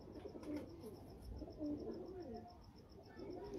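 Teddy pigeons on a rooftop coo softly in low, rolling phrases, faint and repeated under a steady high chirping of insects, with a voice murmuring in the background.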